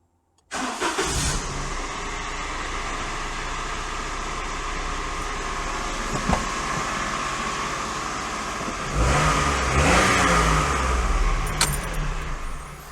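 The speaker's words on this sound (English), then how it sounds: "That noise appears to be the water pump" A Daihatsu Sirion's engine runs loud and close for several seconds, its steady mechanical drone carrying a water pump noise, with a brief jangle of keys near the start and a swell partway through.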